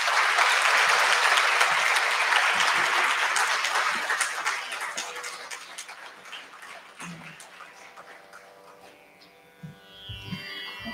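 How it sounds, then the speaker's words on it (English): Loud audience applause at an arangetram dance recital, thick clapping that gradually tapers after four seconds into sparse claps, with faint stage noises and a brief tonal sound near the end. "request you to join me in applauding my amazing cousin"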